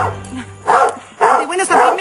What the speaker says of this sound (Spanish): ¡Esos son sus ladridos!